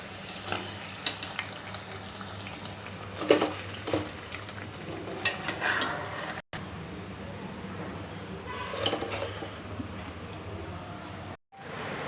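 Leafy-green garelu, lentil fritters with greens, frying in hot oil, a steady soft sizzle and bubbling with occasional stirring clinks, close and moderately quiet, broken by two brief drops to near silence.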